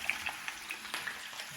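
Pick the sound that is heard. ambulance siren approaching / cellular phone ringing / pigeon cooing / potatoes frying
potatoes frying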